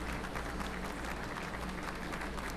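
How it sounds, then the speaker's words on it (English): Steady applause from a concert crowd in the video game DearDrops, with scattered cheering mixed in, sounding fairly distant and muffled, no voices speaking. "And then came cheers and applause."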